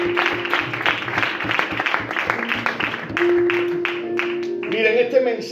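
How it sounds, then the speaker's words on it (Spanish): Church congregation applauding loudly after a reading of the Word, steady clapping throughout with a voice briefly audible near the end. "Pueden dar un fuerte aplauso a la palabra del Señor."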